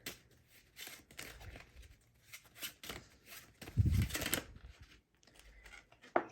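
Tarot cards are shuffled in soft, intermittent riffles and shuffles, close and quiet, with brief pauses between bursts.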